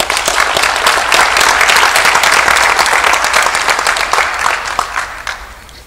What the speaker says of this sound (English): can we give your families a round of applause